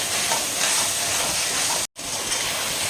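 Tomatoes, onions and ginger garlic paste sautéing in a pan for a country chicken biryani masala: a steady, loud, close sizzle and hiss that cuts out for a split second before continuing.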